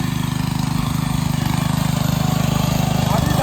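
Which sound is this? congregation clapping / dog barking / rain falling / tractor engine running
tractor engine running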